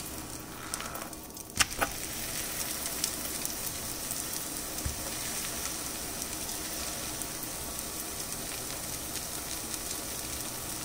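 A masala dosa fries on a hot pan, giving a steady close sizzle throughout, with a faint clatter early on and no voices.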